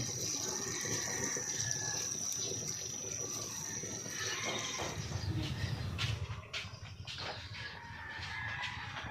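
Water poured into a pot of sinigang with talakitok fish, a continuous splashing pour that tapers off midway, with faint outdoor background noise.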